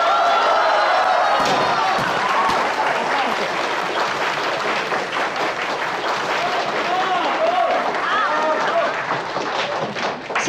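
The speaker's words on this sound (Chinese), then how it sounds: "恭喜丛总成为我们招商部新一任的总监，大家掌声鼓励。" An office gathering applauds a newly named sales director: a sustained burst of close, dense clapping from a small crowd, with a few louder slaps, while voices and brief speech sound over it.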